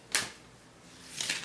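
An earthy oracle card deck shuffled, with cards that feel like stones or tablets, heard as two brief clattering riffles about a second apart, faint and close in a quiet room.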